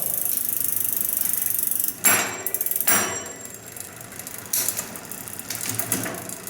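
A Makalu 9900D bike's Shimano Deore 30-speed drivetrain spins after a derailleur tweak, giving a steady close whir followed by a few sharp ratcheting clicks and ticks, with no voices.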